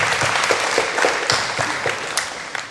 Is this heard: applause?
yes